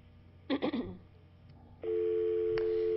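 A telephone line tone sounds during a sports radio phone-in call: a brief burst of clicks and noise, then a steady, loud electronic tone holds alone to the end.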